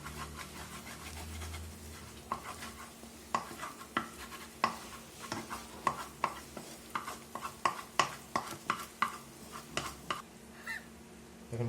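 Egg being whisked for noodles, a fork or whisk striking a bowl in a fast, steady run of sharp clicks that grows denser and more regular in the second half, close and fairly quiet.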